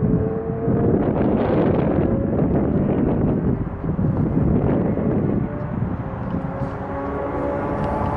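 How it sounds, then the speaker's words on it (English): A strong crosswind blows across a football field, a loud, continuous rumbling buffeting on the microphone that rises and falls slightly throughout. "Strong crosswind, left to right."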